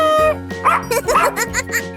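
A cartoonish dog barks in a 3D animal video game, a couple of quick bright yips over a sustained musical tone, followed by a playful giggling sound effect, all loud and close.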